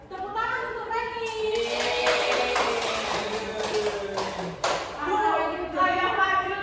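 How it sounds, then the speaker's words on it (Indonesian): Classroom applause for a student during a micro-teaching lesson, a few seconds of close, uneven hand clapping mixed with children's voices and chatter. "Tepuk tangan untuk Reni."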